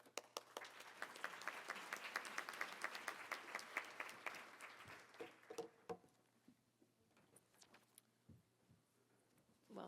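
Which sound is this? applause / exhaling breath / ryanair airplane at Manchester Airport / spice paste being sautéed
applause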